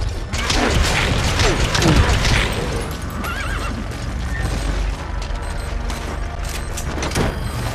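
Horse neighing in the video game Metal Gear Solid V, a short whinny near the start over busy game action with booms and mechanical clatter, the whole scene loud and continuous.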